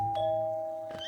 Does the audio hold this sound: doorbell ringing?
yes